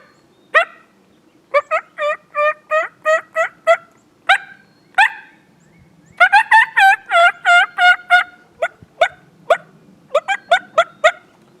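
A Beaver Creek mouth call imitates a raspy turkey hen in quick runs of loud, close yelps, several series of rhythmic raspy notes separated by short pauses over a quiet background.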